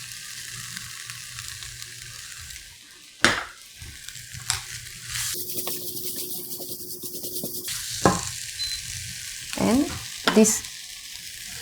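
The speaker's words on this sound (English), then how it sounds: "Now you stir fry it evenly" Spicy Korean pork with spring onion, leek and sugar stir-fried in a pan, a steady close sizzle with sharp clatters of the spatula against the pan, a brief word spoken over it.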